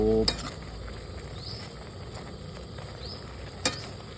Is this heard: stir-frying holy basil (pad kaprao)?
yes